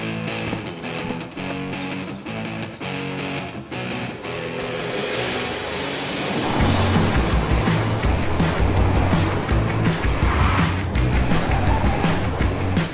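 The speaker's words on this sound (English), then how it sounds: "take this all-new Honda Civic out for a spin around this beautiful track" An all-new Honda Civic hybrid with a 2-litre petrol engine and two electric motors drives around a sunny race track in Spain, giving a steady engine and road roar that grows louder and rougher partway through, with no talking.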